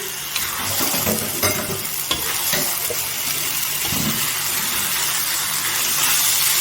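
Chicken masala frying in a pan is stirred gently as it cooks down dry, a steady loud sizzle with soft scraping strokes of the spoon throughout and no one speaking.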